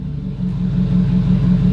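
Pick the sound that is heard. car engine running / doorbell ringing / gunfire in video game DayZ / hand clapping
car engine running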